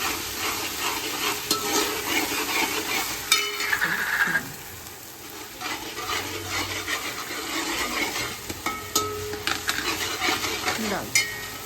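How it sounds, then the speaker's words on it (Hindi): Onions frying in hot oil for a home-cooked biryani, a steady broadband sizzle with stirring and scraping noises throughout, close and moderately loud with occasional clatter. "बस ये प्याज फ्राई कर रही थी"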